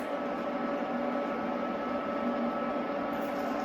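Black-eyed pea cakes sizzle in a hot pan as a steady, even frying hiss with a faint underlying hum, holding constant and close throughout with no voices.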